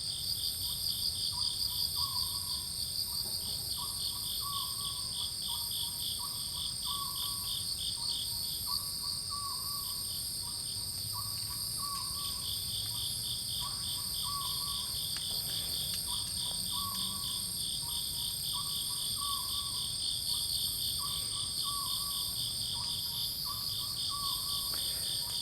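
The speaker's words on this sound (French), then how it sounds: "vous allez entendre un hibou et puis des grillons" Crickets chirp steadily and densely through a night scene, with faint low hoots that fit an owl, all continuous, with no one talking.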